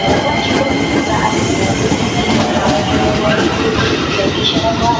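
Train rolling past near Lempuyangan and Tugu stations in Yogyakarta, a loud continuous rumble of wheels on rail close by, steady for the whole moment.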